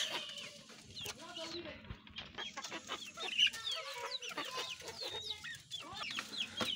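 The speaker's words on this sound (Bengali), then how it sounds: "আমার এই খাঁচার মুরগিগুলো দেখেন একদম ফ্রেশ" Native chickens clucking in a cage in a small backyard setup, a steady close chorus of clucks and chirpy calls with occasional louder squawks, continuing throughout.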